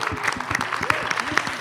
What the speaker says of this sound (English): Guys, can we give her a clap for coming all the way?